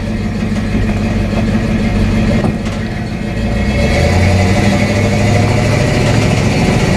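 A 1984 Chevy truck engine runs steadily while driving around a lake, with a continuous low mid-range rumble that swells slightly partway through and stays loud and close throughout, with no voices.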